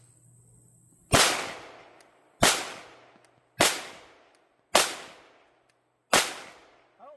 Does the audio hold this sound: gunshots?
yes